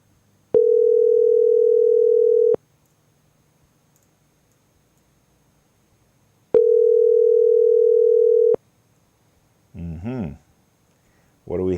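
A phone ringback tone sounds twice, each a steady two-second purr separated by silence, followed by brief speech.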